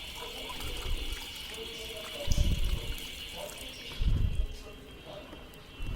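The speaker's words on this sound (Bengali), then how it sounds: "তো আমি মাছগুলো এখন এটাই ঢালবো এটাই ঢেলে তারপরে আমি মূল ফিশ ট্যাঙ্কে দিয়ে দেবো" Water holding fish is poured into an aquarium tank in two short, splashy bursts. Each pour stands out over a steady background hum.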